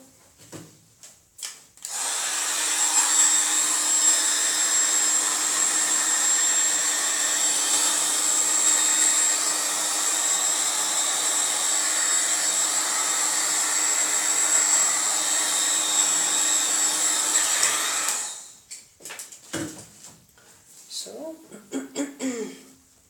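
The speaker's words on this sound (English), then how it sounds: "I will just torch a little" Handheld torch blowing over freshly poured paint on a flip-cup pour, a steady loud roaring hiss lasting about fifteen seconds, preceded and followed by brief handling noises.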